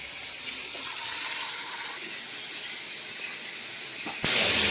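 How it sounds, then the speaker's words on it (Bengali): Pomfret fish fry in a pan with a steady, broad hiss of hot oil that holds evenly throughout, then jumps suddenly louder near the end, close and without talking. "মাছগুলো ভাজা হোক"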